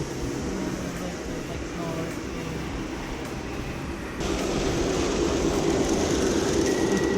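Steady low rumble of a train idling or rolling slowly nearby, stopping to switch tracks at Union Station in Kansas City, growing a bit louder partway through, with faint voices underneath.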